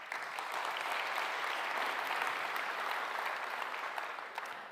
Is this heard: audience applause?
yes